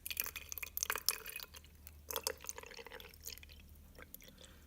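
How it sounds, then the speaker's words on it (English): Water trickles and drips into a small bushcraft container bought at a Japanese dollar store, sounding as faint, irregular splashes and drips close to the microphone, with no talk. "Try to fill this with some water."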